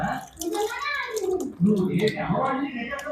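Palmyra fruit is scrubbed and sloshed in a bucket of water, with splashing and wet handling sounds running throughout, close by and beneath a steady voice talking.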